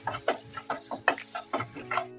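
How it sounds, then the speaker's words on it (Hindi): Tomatoes sautéing in a pan, a spatula scraping and stirring in a steady rhythm of soft clacks about every quarter second, close and fairly quiet with no voices. "अब टमाटर को भी हम सॉफ्ट होने तक अच्छे से भून लेंगे।"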